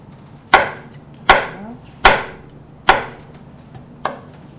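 A knife chops vegetables for Korean bibimbap in five sharp, evenly spaced cuts against a cutting board, close and crisp with quiet pauses between strokes.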